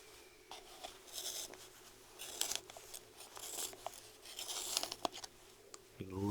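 A Blackwing pencil is sharpened in short scraping, crunching bursts and a few crisp clicks, spaced irregularly at close range against a quiet background.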